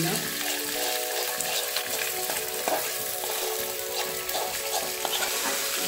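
Onions, capsicum and ginger frying for chili chicken, a bright constant sizzle up close with occasional stirring scrapes, no speech.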